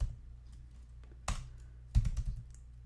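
Typing on a computer keyboard: a few quiet, scattered key clicks with a couple of sharper taps, close and otherwise alone.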